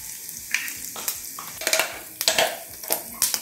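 Mustard seeds and asafoetida sizzle in hot oil for red chutney, a steady close frying hiss broken by several sharp crackling bursts as the seeds pop.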